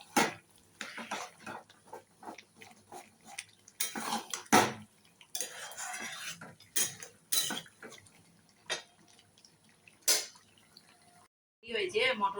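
Mutton masala (Dak Bungalow mutton) being stirred in a pot: repeated metallic scraping and clanks of a spoon against the pot, in irregular bursts with short pauses, fairly close and clear, with no talk over it.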